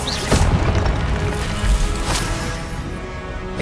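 A Confringo explosion spell in Hogwarts Legacy bursts with a loud booming blast, followed by crackling, crashing debris and a second impact, dense and close throughout with no speech.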